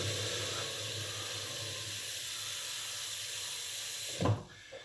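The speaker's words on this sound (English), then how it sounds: "we're going to throw a bit of water in this pan here" Water pours steadily into a pan as a continuous soft rushing hiss, ending with a brief clatter near the end.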